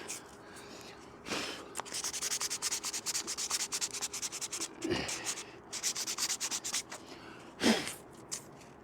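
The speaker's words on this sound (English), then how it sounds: "So we'll try and get all the rust off." Rust being sanded off a metal surface, giving a steady run of quick scratchy rubbing strokes close by, broken by a few louder knocks and short pauses.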